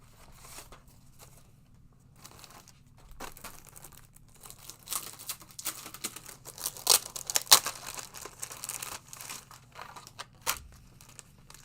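Paper being cut with a coordinating die for a spring card, heard as soft crinkling and crackling with a few sharper crunches and rustles, fairly quiet and close, without talk.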